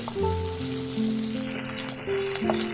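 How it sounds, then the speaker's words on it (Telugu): Curry leaves, onion and dried red chillies fry in hot oil, making a loud, continuous close sizzle with a faint crackle. "బాగా ఇవి క్రిస్పీ అయ్యేలాగా ఫ్రై చేసుకోవాలి."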